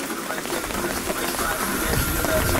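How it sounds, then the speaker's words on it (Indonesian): Steady rain falls on the Mount Patuha hiking trail, a dense, even hiss of drops on surfaces, close and unbroken, growing slightly heavier and fuller near the end. "kondisi hujan."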